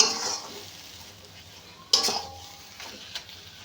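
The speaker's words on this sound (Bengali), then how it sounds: "বন্ধুরা একটু হলুদ গুঁড়ো দিয়ে দেব দিয়ে আবার বেশ ভালো করে এইভাবে নেড়ে নেব" Turmeric being stirred into mashed taro leaf paste in a pan, village style, with a spoon scraping and tapping against the pan in a few faint, scattered clicks over a quiet background.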